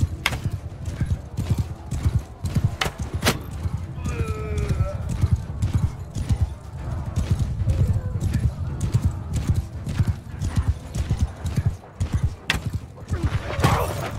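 Steady clip-clop of galloping horse hooves with a brief whinny, set against a busy soundscape of clashes and rumble from the video game Mount and Blade II: Bannerlord, with talking throughout.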